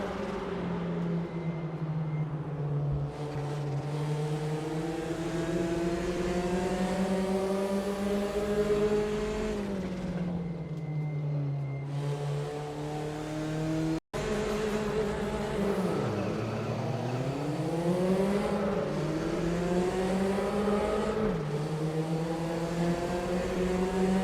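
Porsche 944 Cup race cars in RaceRoom at Zolder, a full grid launching from the start with loud, layered engine drones rising and falling in pitch as gears shift and cars jostle together.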